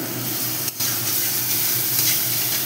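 Spice paste frying in oil for a soybean curry, giving a steady, close hiss of sizzling with faint stirring and a brief break partway through.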